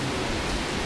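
Steady rain falling, a dense continuous hiss with no distinct drops, filling the whole short stretch at a moderate level.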